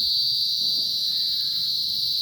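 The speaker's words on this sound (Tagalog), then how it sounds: "background ko dito ay kuliglig" Crickets chirp in the countryside as a dense, continuous high-pitched trill that stays loud and steady throughout, with no voices.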